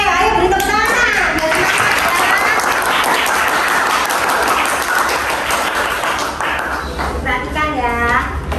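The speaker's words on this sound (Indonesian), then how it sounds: "Oke, ayo beri tepuk tangan." Classroom pupils clap loudly for a presenting group, close and lively hand claps building and fading, with children's voices talking at the start and near the end.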